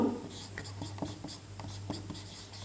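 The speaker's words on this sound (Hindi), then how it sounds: "तो हम लोग इसको लिख लेते हैं" Chalk or a marker writes on a board during a physics lesson, giving a series of short scratchy strokes and taps at close range over a constant low hum.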